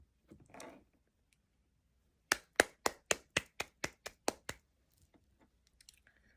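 Congregation clapping for Jesus in a burst of about ten sharp, evenly spaced claps that then stop, with a faint murmur of voices just before.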